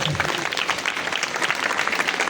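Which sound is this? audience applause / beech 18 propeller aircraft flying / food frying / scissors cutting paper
audience applause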